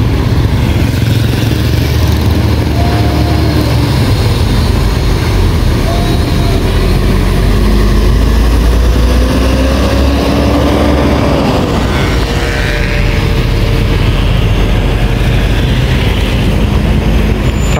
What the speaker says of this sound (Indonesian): tiga unit bus Sumbar langsung bergerak meninggalkan rumah makan Omega